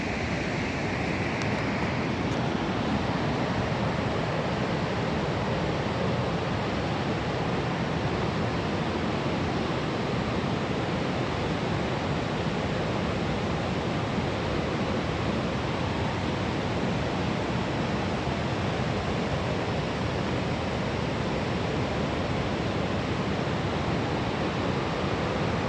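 Cumberland Falls waterfall roars in a steady, dense wash of rushing water that stays loud and unbroken the whole time, with no voices over it.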